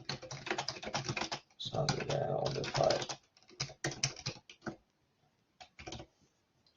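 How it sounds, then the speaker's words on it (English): Computer keyboard typing in short bursts of quick, close key clicks with pauses between, mixed with brief spoken remarks from a person at the desk. "you can start typing"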